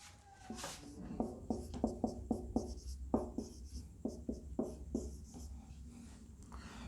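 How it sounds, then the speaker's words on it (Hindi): Chalk or marker strokes writing out a maths equation on a board during a tenth-class lesson, a run of short tapping and scratching strokes in quick bursts, close and clear, with no talking over them. "चलो अब ये वाली इक्वेशन लिख लेते हैं"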